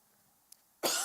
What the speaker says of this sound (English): I've developed a cough that just is driving me crazy